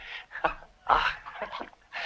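Dogs in a 1960 ancient-world epic film whine and snuffle close by in several short bursts with brief pauses between them, and no speech over them.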